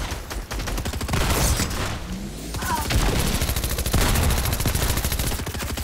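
Rapid automatic gunfire from a Fortnite match, dense continuous bursts of shots filling the whole stretch, loud and close, with only a brief lull in the middle.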